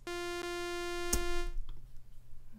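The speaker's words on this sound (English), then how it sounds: "watch how easy it is to make this bass" Synth bass patch built in Logic's Alchemy synthesizer for a popular EDM bass sound: a steady, buzzy, harmonic-rich tone held for about a second and a half with a sharp click midway, then trailing off into low noise.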